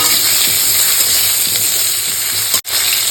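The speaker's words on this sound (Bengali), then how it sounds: "কাঁচা আমটাকে এবার হালকা করে একটু ভেজে নেবো" Long slices of raw green mango frying lightly in hot oil, giving a loud, steady, close sizzle with fine crackle throughout and one brief dip near the end.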